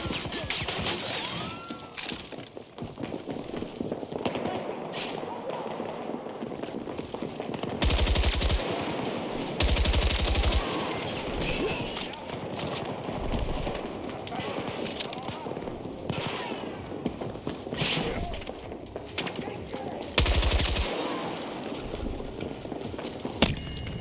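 RPK-74M machine gun fire in Battlefield 2042, long rapid automatic bursts that are loud and close, repeating through the battle with voices talking over them at times.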